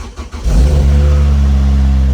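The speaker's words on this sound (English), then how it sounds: "you just press the engine start button like a normal car" A 2006 Lotus Elise race car engine starts after a brief crank, then settles into a loud, steady, close idle with a deep rumble and no talking.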